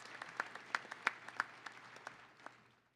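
Sparse applause from a commencement ceremony audience of UW-Parkside graduates and guests: scattered individual claps ring out over about three seconds, fairly faint and distant in a large hall, thinning and fading toward the end.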